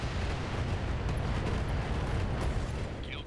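Missile salvo launching in a MechWarrior BattleTech game, a dense roaring rush of rocket exhaust and rumbling blasts, loud and continuous for several seconds with faint higher streaks near the end.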